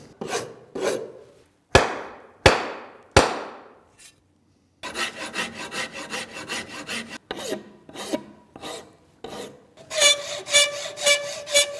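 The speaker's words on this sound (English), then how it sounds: "All the spots that are marked dark are the areas where I need to file off some more wood." Rasping strokes of a file working wood on an axe handle, close and loud, in short repeated bursts with a brief pause, then a faster run of steady scraping strokes.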